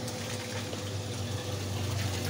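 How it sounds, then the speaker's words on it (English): A GE Filter Flo washing machine running a spray rinse on an empty mini basket wash, water hissing and splashing steadily and close throughout, with a low pump hum underneath. "Oh, and it does a spray rinse too."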